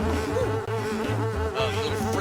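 Bees buzz steadily in the video game Ninjabread Man, a loud, continuous droning hum with wavering pitch that carries on without a break and with no talking over it.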